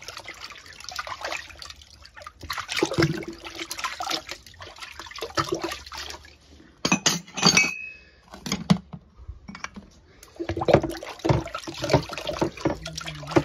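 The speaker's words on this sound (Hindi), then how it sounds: "अभी हम धोएंगे बर्तन कप वगैरह" Cups and dishes are washed by hand under running water at home, with steady splashing broken by frequent clinks of ceramic and glass, close and fairly loud, with no talking.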